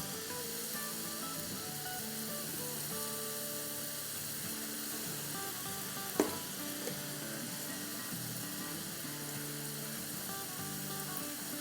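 Boondi batter frying in hot oil, a soft, steady sizzle with a faint hum underneath, one sharp click partway through, and no talking.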